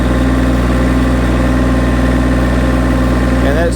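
Massey Ferguson GC1723e compact tractor engine held at 2500 RPM for the rear PTO, a loud constant droning hum with steady vibration throughout, close up.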